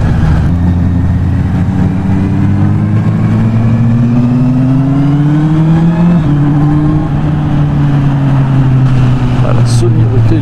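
A 2024 Honda CB650R E-clutch A2 roadster's four-cylinder engine drones loud and close while riding, its pitch rising slowly, dipping at a gear change and climbing again, with wind rush and some talk underneath.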